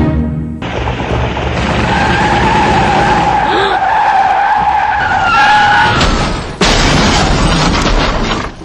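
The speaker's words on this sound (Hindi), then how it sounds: "इतनी तेजी से गाड़ी को हाईवे पर लाने के बाद क्या इस एक्सीडेंट को रोका जा सकता था?" A car skids at high speed on a highway with a loud, sustained tire screech lasting several seconds, then an abrupt, harsh burst of noise as it crashes.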